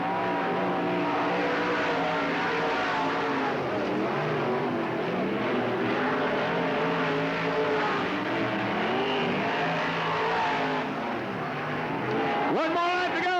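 Race cars roaring around Cottage Grove Speedway in a 1991 trophy dash and heat race, engines droning loudly and continuously with rising and falling pitch as cars pass, under a track announcer's voice.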